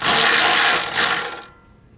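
A wrench loosens the castle nut on a Toyota Tacoma shock during a ride shock installation, giving a loud, close burst of ratcheting and scraping metal that stops abruptly after about one and a half seconds.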